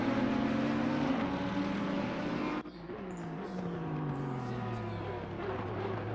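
GT3 race cars roar around the Circuit of the Americas in Assetto Corsa Competizione, layered engine whines rising and falling as cars pass, with a sharp cut to a lower droning engine pitch midway.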